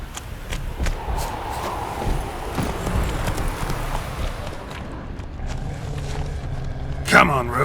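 Hooves of the horse Roach in The Witcher 3 beat in a steady rhythmic clip-clop at a quick pace under game ambience, ending with a sharper sound near the close.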